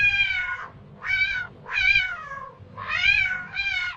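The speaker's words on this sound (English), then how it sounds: "meowing of the cat or purring of the cat" A cat gives five close, clear meows in quick succession, each a rising and falling cry with short gaps between them.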